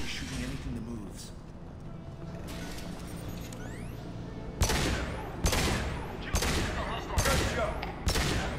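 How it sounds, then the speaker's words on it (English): Sharp bursts of gunfire erupt in a Mass Effect 2 firefight with Blue Suns mercenaries and Vorcha, as loud repeated volleys crack at regular intervals over a low rumbling background, while voices talk underneath. "Blue Suns and Vorcha are shooting anything that moves."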